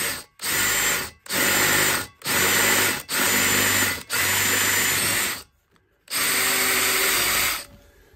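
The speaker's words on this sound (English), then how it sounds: "I'm just going to drill that dude out" A power drill whines in repeated bursts drilling through a steel skillet, about six runs with short gaps between them, loud and close, with no talking.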